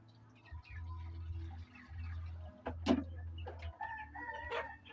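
Chickens cluck and call at moderate distance, with a brief louder squawk, over a low repeating mechanical hum.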